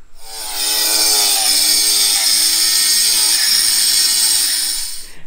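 Power saw cutting stone at a house and pool building site in the Philippines, one sustained harsh whining grind of about four seconds with no talk.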